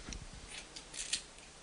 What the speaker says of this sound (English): Where's the scissors? We're going manual.